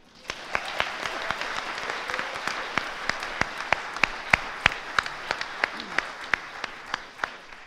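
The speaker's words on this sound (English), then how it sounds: "I'm also gonna ask you one more time for one more round of applause" A small audience at a poetry and song performance gives a thin round of applause, with distinct individual claps popping out sharply and irregularly over a softer background of clapping.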